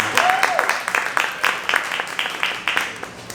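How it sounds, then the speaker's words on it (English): A small audience claps in a loose, sparse burst, distinct individual claps rising and falling rather than a dense roar, fairly close. "can you give him a huge round of applause?"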